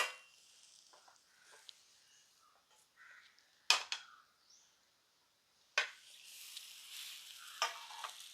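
A sweet potato ottada cooks on a leaf in a covered pan, giving a faint, quiet sizzle broken by a few sharp clicks and scrapes of handling, with no voices.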